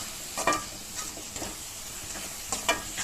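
Golden fried cashews are stirred into a coconut burfi mixture sweetened with country sugar, a soft continuous scraping and stirring over a low sizzle, with a few brief spoon knocks, close and quiet.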